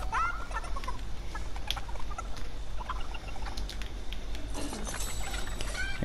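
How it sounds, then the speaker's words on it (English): Chicken in a video game clucks and gobbles in short bursts over a low, steady background hum, with a few brief squawks scattered through. "Chicken."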